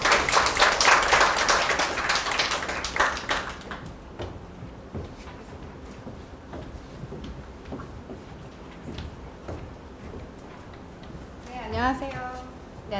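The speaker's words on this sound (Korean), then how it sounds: "네, 큰 박수로 모시겠습니다." An audience applauds to welcome a customs-broker instructor at a customs broker exam information session. Dense clapping fills the first few seconds, then fades into quieter room noise with scattered small knocks and a voice near the end.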